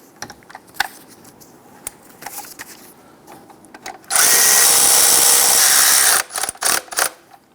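A power tool snugs alternator mounting bolts on a 1999–2004 Jeep Grand Cherokee 4.7L V8, giving a loud, steady two-second whirring buzz amid scattered clinks and handling noises in a garage.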